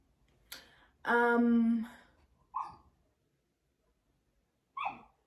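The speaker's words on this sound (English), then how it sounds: "please excuse my dogs." A few separate dog barks in quiet surroundings: one long, whining bark-howl followed by two short, sharp barks spaced apart.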